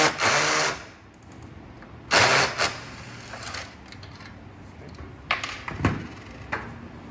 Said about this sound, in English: we'll go ahead and put the self-tapper through the screw